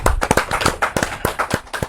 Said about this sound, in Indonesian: Tepuk tangan lagi juga.